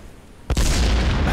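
A sudden explosion in the video game Eat the Baron: one sharp, heavy boom bursts in after a quiet lead-in and then rolls into a loud, sustained rumbling roar that fills the rest of the moment.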